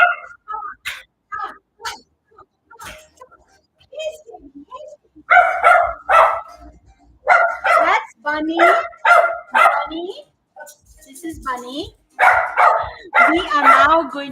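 Several dogs bark and yip in short bursts close by, mixed with a person talking and calling to them over the barking.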